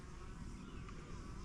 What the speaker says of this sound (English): the bees are really getting busy here.